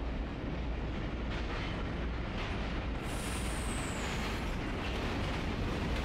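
Subway train from a 2005 horror video game rumbles along in a loud, continuous roar with faint clattering wheel noise and a thin high whine sliding in partway through.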